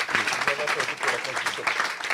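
A church congregation applauds and cheers in praise, a short burst of clapping mixed with voices calling out.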